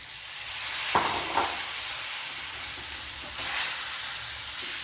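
Spice powders frying in oil in a pan for rambutan pickle give a steady, loud sizzle, with a couple of brief stirring scrapes partway through and the hiss swelling near the end.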